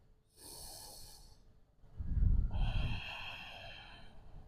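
A deep breath taken during a dynamic vinyasa yoga flow: a soft airy inhale followed by a stronger, fuller exhale through the nose, close and clear with no talking.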